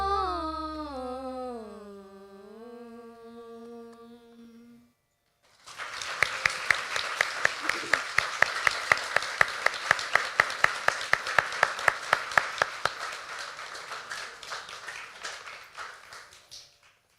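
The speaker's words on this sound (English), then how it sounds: "another round of applause for them" At a Diwali puja music program at Hiawatha Ashram in Victoria, a sung tonal phrase fades out, a brief silence follows, and then an audience breaks into sustained, energetic applause with sharp clapping that gradually thins toward the end.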